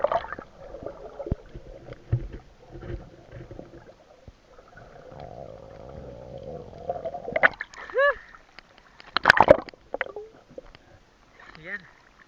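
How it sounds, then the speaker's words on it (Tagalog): Rough sea waves splash and gurgle around people gathering seashells in the water, heard close and uneven under nearby talk, with a few louder splashes toward the end. "Malakas yung alon."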